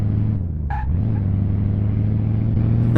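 A simulated car engine in Car Mechanic Simulator 2018 lugs and bogs down, its loud, close drone dropping in pitch and straining without clean revving.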